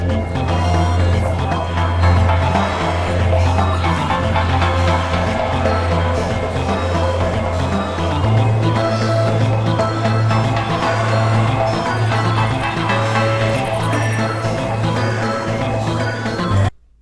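A dense synthesizer line in FL Studio with hyper distortion, shimmering chorus and echoing delay plays continuously over a steady bass pulse, loud and full throughout.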